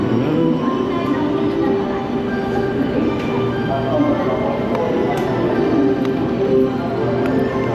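Steady rumble of a train at Kokura station in Japan, a constant low drone with faint rail clatter and station ambience, close and continuous, with people talking underneath.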